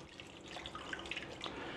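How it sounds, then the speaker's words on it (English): Water splashes and trickles into a pot of beef being braised with wine, a faint, steady pour with light drips and no talk. "So in addition to that, I want some water too."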